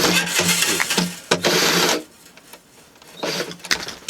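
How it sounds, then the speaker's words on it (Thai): An electric drill winding acoustic guitar strings whirs in several loud bursts, stopping and starting, with a rough grinding buzz before falling quiet. "เพื่อความรวดเร็วผมใช้สว่าน"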